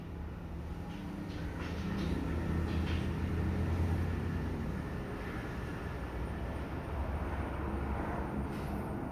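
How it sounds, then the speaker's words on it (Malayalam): A small park ride train at Mango Meadows park runs past as a steady, broad rumble that stays fairly distant and even throughout, with no talk. "അവിടെ ട്രെയിൻ വരുന്നുണ്ട്."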